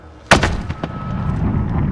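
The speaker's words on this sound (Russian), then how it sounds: "Пушка, огонь!" Cannon artillery fire in the video game Call of Duty: Modern Warfare: a loud, sharp blast with a few quicker follow-up cracks, then a sustained rumbling battle din behind it.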